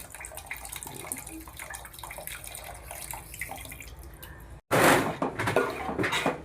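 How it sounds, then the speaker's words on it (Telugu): Water gushes and splashes into a pot of fish curry in a loud burst near the end, following a stretch of soft kitchen clatter. "కొంచెం వాటర్ కూడా మిక్స్ చేసి పులుసు వచ్చేలా వేసుకుంటున్నాం"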